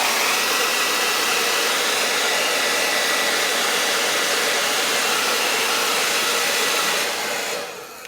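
A hair dryer on its high setting with warm heat blows a steady, loud, continuous rush of air over freshly painted RC transmitter parts, running unbroken for several seconds before tapering off near the end.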